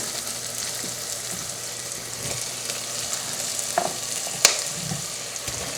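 Onions and fresh beets frying in a pan, a constant crackling sizzle with scattered light clinks and one brighter utensil tap toward the end, no talking.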